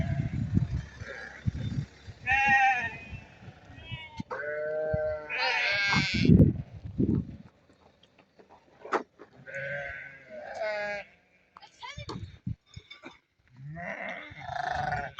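Sheep and lambs bleat repeatedly at a livestock sheep market in Barda, with several loud, near calls overlapping one another and short gaps of quieter crowd noise between them.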